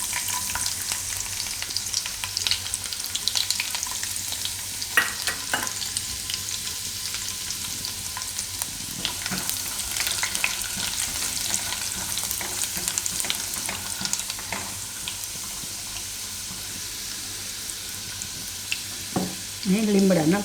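Mustard seeds, cumin and garlic fry in hot oil with a continuous bright sizzle and scattered pops and crackles, close and fairly quiet, with a few louder spatters near the end.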